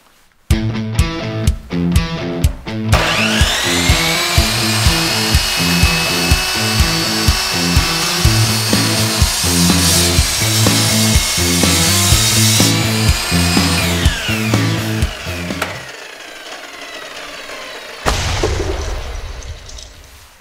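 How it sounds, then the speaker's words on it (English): A miter saw cuts through a wooden board, clamped down to square an uneven edge for a beginner cutting board; the motor spins up loud and steady, whines through the cut for about twelve seconds, then winds down, with a brief burst near the end. "So I'm gonna cut it on my miter saw."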